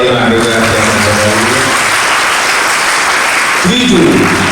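A crowd at a family reunion gathering claps loudly and steadily for several seconds, with a voice over a loudspeaker near the start and again at the end.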